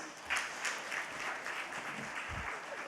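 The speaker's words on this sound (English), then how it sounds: "Please, let's give them a round of applause." Audience applause at a Kenya travel expo partners breakfast: faint, somewhat distant clapping that stays low and steady, with a few brief low thumps mixed in.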